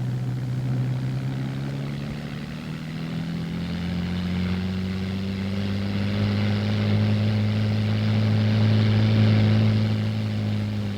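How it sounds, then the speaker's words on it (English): A propeller-driven hovering machine with a 55-horsepower engine drones steadily, its loud, continuous buzzing hum rising slightly in pitch as it runs, with no voices. "The main propeller is driven by a 55-horsepower engine, which produces a lift of approximately 6 inches."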